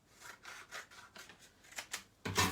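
Scissors cut a paper leaf for a fancy-fold A5 card, giving a few soft, quiet snips and rubbing strokes that end in a louder, crisp swipe.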